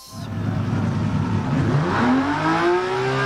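A BMW M1 Procar engine in a racing video game revs and climbs steadily in pitch, a loud rising whine that runs for a few seconds with no talk over it.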